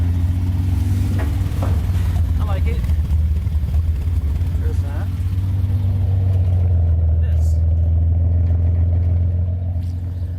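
A Nissan Z car engine idling with a new, quieter exhaust setup, a steady low rumble running throughout while people talk nearby over it.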